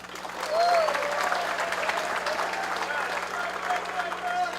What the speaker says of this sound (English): So special round of applause to Air Corps.